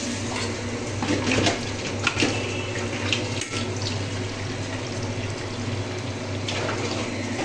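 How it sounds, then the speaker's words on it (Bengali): Water pours into a cooking pan for khichuri as a continuous close splashing rush lasting the whole moment, with a few small clinks and no speech. "এরপর জল"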